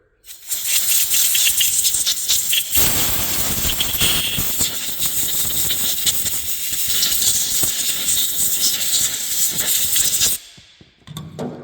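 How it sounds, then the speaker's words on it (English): Compressed air blasts in a loud, continuous hiss, blowing contact cleaner off the coil assembly of a Mercedes FBS4 EZS/EIS ignition switch, close by, for about ten seconds before cutting off sharply. "Just lightly mist it on there, and then I blow it with air."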